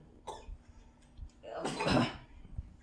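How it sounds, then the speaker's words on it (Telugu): A single short cough, fairly faint, with light clinks and small household noises around it. "దగ్గు"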